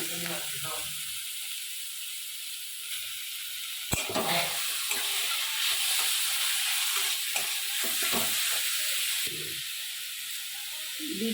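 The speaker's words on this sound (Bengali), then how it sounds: "পেঁয়াজগুলো আমি ভালো করে ভেজে নেব দেখুন আমি এবারে গাজরগুলোও দিয়ে দিলাম" Chopped onions and carrots frying in a pan with a steady sizzle and hiss throughout, broken by occasional stirring scrapes and knocks.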